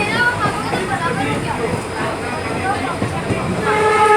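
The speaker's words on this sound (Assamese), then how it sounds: "আমি ট্ৰেইনত আহি আছোঁ" A passenger train runs along the tracks with a loud, continuous rumble and rattling wheel noise from inside the carriage, while a person talks over it.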